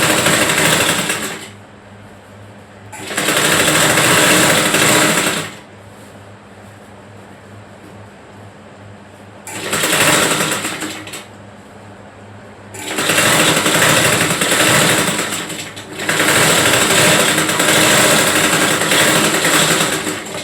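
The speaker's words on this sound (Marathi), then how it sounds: "मेन कापड जो आहे त्याला व्यवस्थित शिलाई मारायची." A sewing machine stitches the main fabric of a little girl's frock, running in loud rapid whirring bursts of a few seconds each, separated by quiet pauses, up close and alone.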